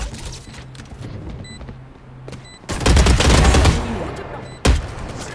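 Sharp bursts of gunfire in Valorant, a loud sustained volley in the middle and a single hard shot near the end, over low background noise.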